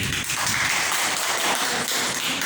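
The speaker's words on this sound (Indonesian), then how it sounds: "tepuk tangan untuk Silvi" Applause for a student named Silvi in a classroom teaching simulation, a dense, steady wash of clapping from a group lasting throughout, fairly loud with no talk over it.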